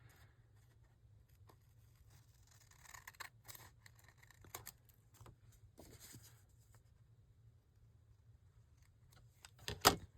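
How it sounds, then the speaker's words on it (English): Quiet scissors snip through paper tabs: a few sparse, sharp cuts spread out over a near-silent background, with a louder snip at the end. "if this is bothering you, you can go ahead and cut that"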